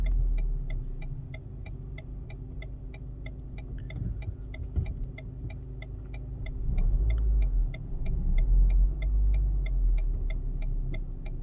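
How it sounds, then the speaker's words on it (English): A car creeps backward while parallel parking at a German driving exam: a low, steady engine rumble that swells slightly near the end, with a regular ticking running evenly throughout. "slowly we are reversing"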